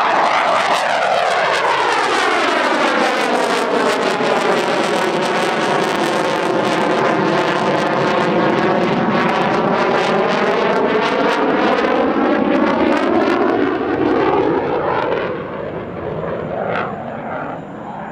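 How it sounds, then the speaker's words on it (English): A Dassault twin-engined jet fighter rolls during a display at the Dubai Airshow 2023, its loud, continuous jet roar sweeping in pitch as it passes close by, then easing off near the end. No one speaks. "It's all the more impressive given this is a twin-engined aircraft, and generally speaking, twins don't roll so well."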